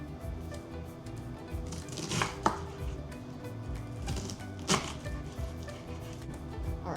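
A knife chops red onion finely on a board at home for guacamole, soft irregular taps and cuts with a couple of sharper knocks, close but quiet, no voices.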